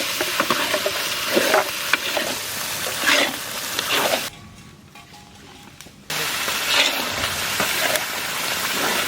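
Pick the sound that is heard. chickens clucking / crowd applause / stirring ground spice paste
stirring ground spice paste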